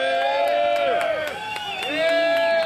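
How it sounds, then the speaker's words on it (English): A rally crowd in Boston cheers loudly, with shouted whoops and voices rising and falling over scattered clapping. "I want to hear a big, big, loud, the loudest applause for Boston today"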